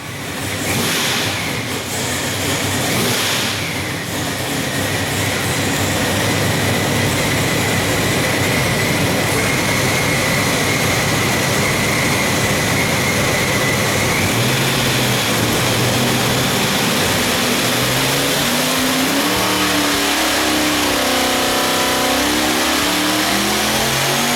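A supercharged big-block Chevy with a ProCharger and blow-through carburetor, making well over 1,000 horsepower, roars loudly through a dyno pull, its revs climbing steadily to a sustained high scream before dropping away at the end.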